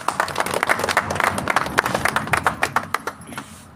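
An audience claps to welcome a guest, a TV channel editor, at a National Human Rights Day gathering, with brisk, uneven hand claps that fade toward the end, near and fairly loud, with no talk over them.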